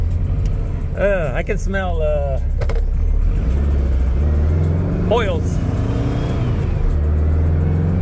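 A green car's engine hums and revs while it shifts through gears on the road, a steady low drone that rises and settles between changes. A person talks over the engine noise.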